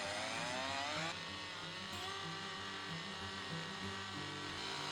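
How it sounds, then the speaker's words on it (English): A chainsaw runs loud and close, its engine revving and whining with shifting pitch as it makes scoring cuts into a log for a log cabin saddle notch. "the instructor is making scoring cuts with a chainsaw in preparation to cut a saddle notch"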